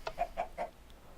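Chickens in a Minecraft Redpower 2 semi-automated chicken farm give four quick, soft clucks in a short rhythmic run, faint and alone.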